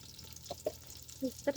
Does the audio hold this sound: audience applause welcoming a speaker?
no